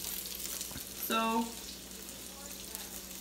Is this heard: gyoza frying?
yes